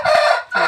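A rooster crows loudly and close by at a chicken shed where breeding birds are kept, one short strained call followed by a clucking note.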